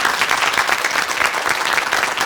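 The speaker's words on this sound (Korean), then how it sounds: "박수로 감사 인사 전하겠습니다." A studio audience on a Korean KBS morning talk show claps loudly and continuously. The packed, even burst of clapping fills the whole moment with no talking over it.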